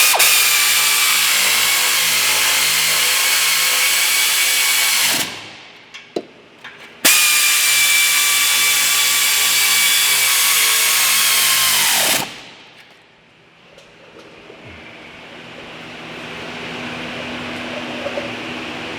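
A power tool tightens exhaust flex pipe bolts on a 2006 Ford Focus, a loud steady whirring drone that runs about five seconds, stops briefly, then runs again for another five seconds before cutting off into quiet.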